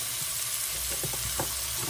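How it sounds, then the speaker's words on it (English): Vegetables frying in a hot pan for stuffed pepper soup, a steady close sizzle with a few brief stirring scrapes and crackles throughout. "fry these for a moment until they soften a little bit"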